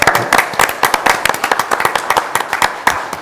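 Loud clapping from a group at a board meeting, with sharp individual claps spiking through a fairly dense, rhythmic round of applause.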